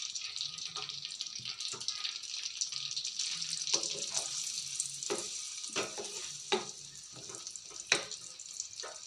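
Onions frying in oil in a kadai for dhaba-style chana dal, a steady bright sizzle with scattered stirring clinks and scrapes, close and continuous, while a voice speaks over it.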